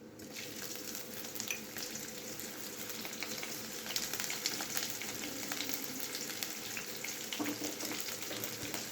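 Two green chillies and a small half-inch piece of ginger sizzle steadily in hot oil in a pan, a dense continuous crackle with occasional spits and clinks, close and alone.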